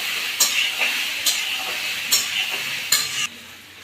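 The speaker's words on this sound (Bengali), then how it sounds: "ভালো করে 2-3 মিনিট ধরে আমি এটাকে ভেজে নেব।" Marinated soybean chunks frying in a pan give a steady close hiss and sizzle, broken by four sharp, regular stirring scrapes before the sound drops off near the end.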